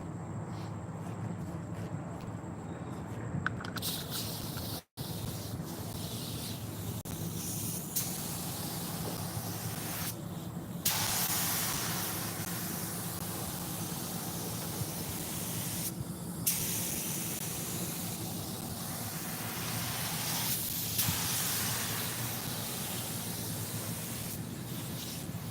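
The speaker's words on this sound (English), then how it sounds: "I'm gonna go ahead and grab my spray gun" Spray gun fed by an air hose laying a paint coat on a car in an auto shop, with a steady close hiss in long passes broken by brief pauses.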